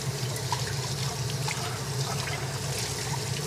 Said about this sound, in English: I'm going to maybe wash something here so that I will be free later.